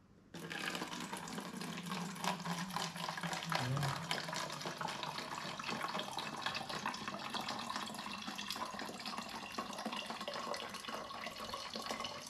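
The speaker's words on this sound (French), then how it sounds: "donc là on met le vinaigre" Vinegar pours into a small bottle in a continuous, close trickling splash that starts abruptly and runs steadily for about twelve seconds, fairly quiet, with no talking over it.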